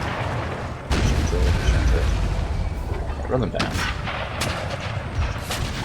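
Cannon artillery booming in an Empire: Total War battle, heavy low thuds rolling under someone speaking, with further distant bangs and crackles as the volley continues.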